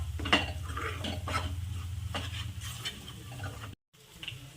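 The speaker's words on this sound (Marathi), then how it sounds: "छान मिक्स करून घ्यायचं याला आपण छान पकू द्यायचं" Dum aloo curry with masala being stirred in a pan, a steady scraping and clinking of a spoon against the pan over a low cooking hiss, close and fairly loud, with a brief dropout near the end.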